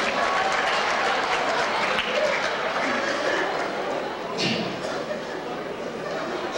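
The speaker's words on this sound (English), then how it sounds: "So we'd like to have a round of applause, if we could, to the snowflake cutter, Lorraine Bobbitt." An audience at the Coon Rapids Snowflake Days event gives the snowflake cutter dense, steady applause, with crowd chatter and a few voices mixed into the clapping throughout.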